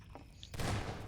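Gunfire in a Prop Hunt game match, a sudden burst of shots that cuts in halfway through and carries on as a dense, loud rattle to the end.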